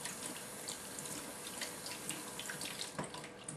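A pork tenderloin is rinsed under a running kitchen tap, giving a steady close hiss of flowing water over a sink with small splashes as the meat is moved.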